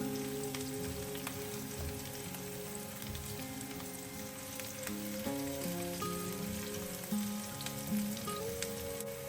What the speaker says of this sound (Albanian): do vazhdojmë ta skuqim qepën për disa minuta derisa të fillojë të zbutet paksa